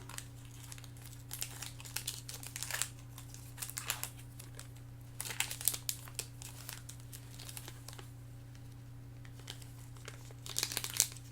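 A trading card pack wrapper for baseball cards being ripped open, close-up crinkling and tearing foil in several bursts with pauses between, fairly quiet over a steady low electrical hum.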